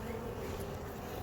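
A male honey bee drone buzzes steadily and close up, a continuous low hum with no voices, held at a beekeeping hive.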